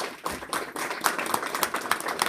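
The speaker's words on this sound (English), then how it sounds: "Y'all can give them a round of applause." A small group claps in a room, with distinct individual hand claps forming an uneven, fairly close rhythm that keeps going steadily.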